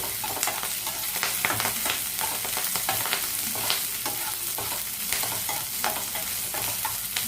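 Capsicum, garlic and ginger stir-frying over a high flame in a restaurant-style paneer and mushroom chilli, with a steady loud sizzle and repeated scraping stirs throughout, no talking.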